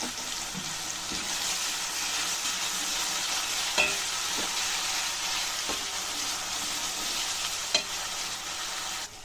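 Chili, turmeric and salt spices frying in oil for Bengali egg curry sizzle steadily while a spoon stirs and scrapes the pan, with occasional sharp clinks, close and continuous.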